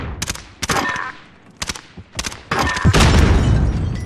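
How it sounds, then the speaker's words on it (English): Video game gunshots ring out in loud, separate bursts of several rapid shots with short pauses between them, ending in a sustained roaring volley. "I just shot somebody in the foot."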